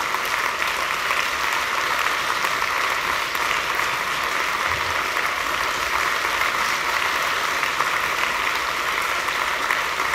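A large conference audience applauds at a closing session, a dense, even wash of clapping that holds steady for the full ten seconds with nothing else over it.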